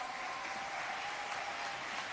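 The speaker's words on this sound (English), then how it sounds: "Can we get another round of applause" Audience applause at a business linkages event, a dense steady wash of clapping hands held at an even level from start to finish, heard from a distance in a hall.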